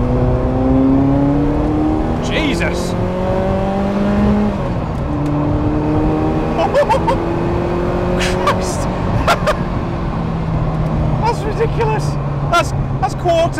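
A Ferrari F40's twin-turbo engine pulls hard under acceleration, with rising gear-by-gear engine tones stepping up repeatedly, loud and close from inside the cabin, while someone talks and exclaims over it.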